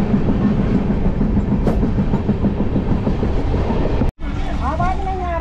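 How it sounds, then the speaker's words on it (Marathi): A passenger train runs with a steady loud roar and rhythmic clickety-clack of rail cars, briefly cut by a sharp dropout before the rumble resumes. "आम्ही ट्रेनमध्ये जात अजून"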